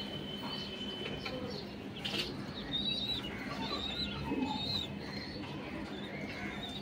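Pigeons in a home loft giving soft, low cooing calls that repeat irregularly over a faint background hum, joined by a few brief higher chirps.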